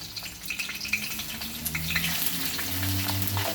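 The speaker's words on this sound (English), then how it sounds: "we have to fry our onion till golden brown" Onion frying in a couple of spoons of oil until golden brown, a steady close sizzle and crackle with faint stirring, growing slightly denser over a few seconds.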